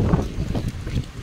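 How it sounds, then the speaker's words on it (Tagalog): Gusty wind buffets the microphone outdoors at a park lake, a brief, loud, rumbling rush with no talk. "Kaya nga, sarap ng hangin."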